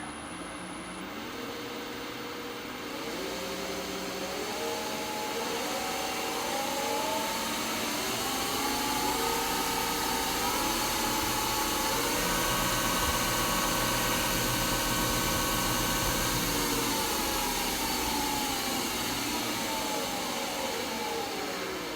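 Warco 250V metal lathe with quick change tool post running steadily, a continuous loud motor hum and whine that rises slightly in pitch partway through, alone without talk.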